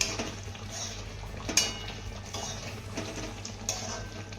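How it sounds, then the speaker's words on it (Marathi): A spoon stirs cooked spinach in a pan, giving soft scraping and light clinks of metal against the pan with a few sharper knocks, close and steady, with no talking. "त्यानंतर चमच्याने ही भाजी छान अशी हलवून घ्यायची आहे"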